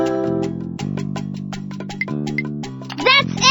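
Guitar sound in the Dora's Big Birthday Adventure PC game, a short sequence of plucked, bright tones with sustained harmonic notes, played over soft background music, followed by a brief rising chime near the end.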